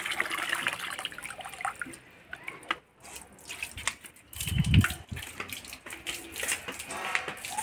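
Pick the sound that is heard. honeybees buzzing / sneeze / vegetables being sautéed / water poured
water poured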